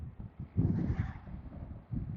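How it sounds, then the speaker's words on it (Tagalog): Strong wind buffets the microphone during a motorcycle ride toward Makiling, Batangas, producing loud, gusty low rumbling that swells and fades in waves with no talk. "Ay, grabe. Lakas ng hangin."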